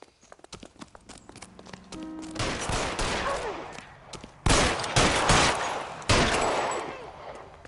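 Gunfire erupts in the 1940s crime video game LA Noire, with sharp loud broadband bursts landing in quick clusters over a rumbling, busy background, the heaviest volleys striking in the latter half.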